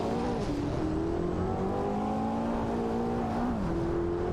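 Racing video game with a Porsche 961 LM and a Ferrari F40 Competition dueling for position: a continuous high engine drone whose pitch climbs and shifts, with a gear change near the end, no voices.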